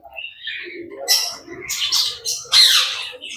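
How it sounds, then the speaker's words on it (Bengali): Small birds at a mini zoo chirp and squawk in bright, overlapping bursts, with a couple of louder calls standing out near the end and no talk. "একদম ছোট্ট ছোট্ট পাখি, কি পাখি এগুলোর নাম জানি না, কি ছোট্ট পাখিগুলো"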